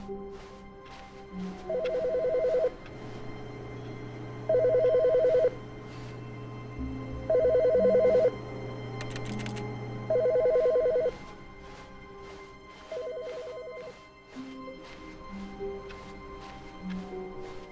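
Telephone ringing in The Stanley Parable: Ultra Deluxe, five evenly spaced electronic ring bursts of about a second each over a low ambient hum with soft game tones between them, moderately loud and unanswered.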